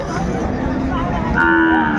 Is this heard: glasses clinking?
no